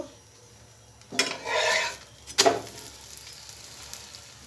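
Aloo paratha frying in a little oil in a pan, a soft sizzle that swells for about a second before a sharper burst of crackle, then settles back to a faint hiss.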